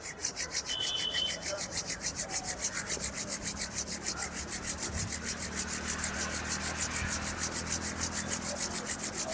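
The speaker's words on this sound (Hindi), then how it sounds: "हाथ को रगड़िए कस के" Vigorous hand rubbing during a guided meditation, a steady rapid swishing friction that repeats in a fast even rhythm for the whole stretch, close and fairly loud with no talking over it.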